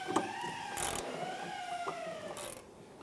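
Wrench tightening a 14mm sway bar link nut on a 2001-2005 Honda Civic rear suspension, with a few metallic clicks and a faint scrape and ring close by, quiet overall with no talking.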